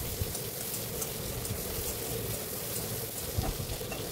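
Chopped tomatoes, green chillies and whole cumin sizzle in a hot wok, giving a steady, dense, crackling hiss at close range with small pops scattered throughout.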